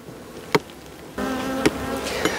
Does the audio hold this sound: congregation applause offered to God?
no